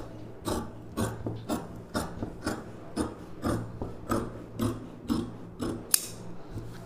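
Scissors cutting blouse fabric in straight strokes: a steady series of about a dozen crisp, rasping snips spaced roughly half a second apart, close and moderately loud with no talk.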